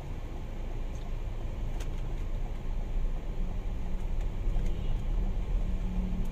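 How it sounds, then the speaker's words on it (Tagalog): Road traffic rumbles steadily as a continuous low wash of passing vehicles, with no distinct horns. It stays at a constant moderate level throughout, and no one speaks. "Grabe traffic guys, oh."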